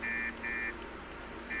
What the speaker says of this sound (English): Their honking is really getting on my nerves. I wish they had a more pleasant honk noise. It's so robotic.